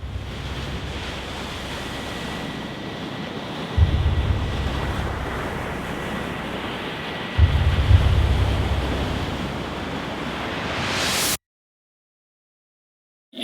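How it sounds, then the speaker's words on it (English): Ocean surf roars in a continuous, broad wash during a calm with no wind, with two heavier surges of breaking waves building partway through before the sound cuts off abruptly near the end. "No wind, just the roar of the ocean."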